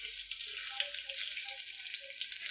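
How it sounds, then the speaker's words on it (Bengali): Chopped onion dropped into hot cooking oil for a fish and vegetable curry, giving a steady fine sizzle and crackle close by, with no one speaking. "তো তেলটা গরম হয়ে গেছে, এখন আমি দিয়ে দেব পেঁয়াজ কুচি"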